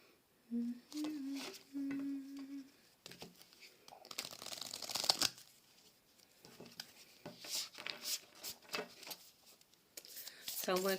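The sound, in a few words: shuffling Goddess Tarot cards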